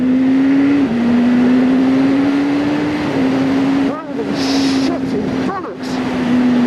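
A BMW S1000RR sportbike in race mode roars with a loud, steady engine drone that climbs in pitch, dips briefly during gear changes and picks up again, with wind rush and someone talking excitedly over it.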